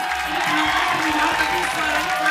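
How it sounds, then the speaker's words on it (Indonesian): A studio audience at a comedy variety show applauds and cheers in a loud, continuous roar, with a host's voice speaking over the crowd noise. "Kita kasih tepuk tangan dong."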